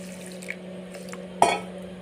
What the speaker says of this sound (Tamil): இதை கொட்டிட்டு வேறு ஊற வைக்கிறேன் வேறு தண்ணியில்